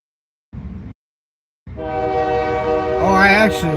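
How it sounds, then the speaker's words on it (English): Passing train sounding its horn: a short low rumble blast, a pause, then a long loud blaring horn with harmonic tones that bends and rises near the end, close and unaccompanied by talk. "I'm not gonna mute it every time a fucking train comes through."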